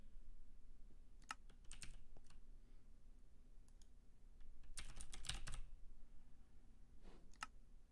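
Typing on a computer keyboard, scattered bursts of close, light key clicks separated by pauses, over a quiet low hum, with no talking.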